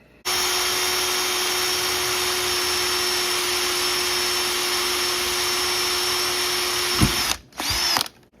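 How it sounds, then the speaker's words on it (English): A power drill whines at a steady high pitch for several seconds, stops abruptly, then briefly revs up again close by, drilling holes in an RC car's motor mount. "I'm gonna try to drill these"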